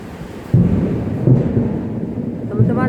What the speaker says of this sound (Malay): Teman-teman, hujan pum pum pum pum, hujan kuat